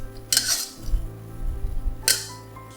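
Chicken stirred with soya sauce in a pan, the spatula scraping and clinking against the metal in two sharp bursts between softer shuffling sounds, close and without speech.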